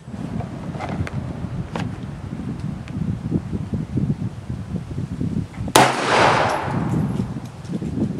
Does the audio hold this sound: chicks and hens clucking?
no